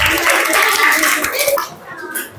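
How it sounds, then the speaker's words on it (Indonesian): A classroom group of pupils clapping together after a game, a dense burst of hand claps lasting about two seconds with voices mixed in before it fades. "Tepuk tangan untuk kita semua."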